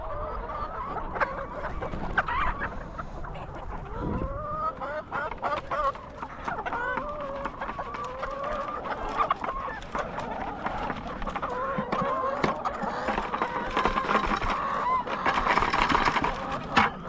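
A flock of farm chickens clucks and chatters nonstop at close range while pecking feed off the floor, with overlapping calls and occasional louder squawks.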